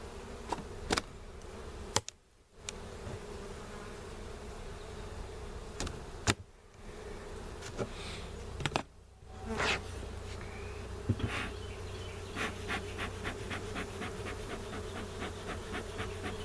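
Honeybees buzz at a beehive brood box in spring, a dense, steady drone close by, with occasional clicks and knocks of handling over the hum.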